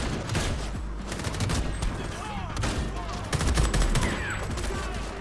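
Sustained gunfire during a firefight in Homefront: The Revolution, with dense rattling volleys and scattered single shots close and loud throughout, under occasional talk and other game sounds.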